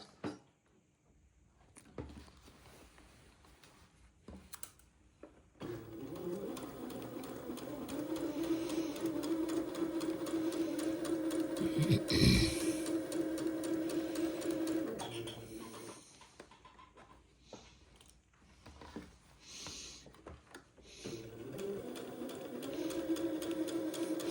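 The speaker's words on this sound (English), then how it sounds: "this will take me a minute to get this side sewn and to also sew the other side" A sewing machine runs along the side seams of a shirt for an Eton suit, its steady hum rising and falling over several long bursts with short gaps, while birds coo faintly nearby.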